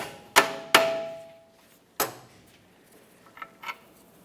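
A hammer strikes the last bolt of a Dodge Ram 2500 upper control arm, three sharp metallic clangs with ringing decay, close and clear, followed by a couple of faint lighter knocks.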